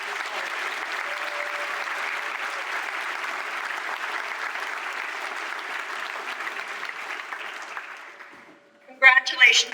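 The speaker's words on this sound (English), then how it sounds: "Let's have a final round of applause for our Alfred." Sustained audience applause at a university honors convocation, steady dense clapping filling the hall for several seconds before fading out, followed by a brief voice at the end.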